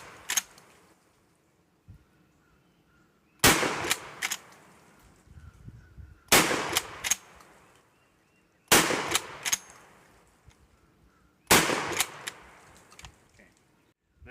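A Mossberg 590M magazine-fed pump shotgun fires on an outdoor range: four loud, sharp blasts spaced a few seconds apart, each followed by clattering pump-action racking, with quieter handling noise in between.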